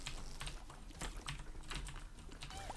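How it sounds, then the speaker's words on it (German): Fast typing on a very loud mechanical keyboard, with sharp clacky keystrokes in quick irregular bursts, close and alone. "liegt natürlich an meiner Tastatur, an der guten mechanischen, da die sehr, sehr laut ist"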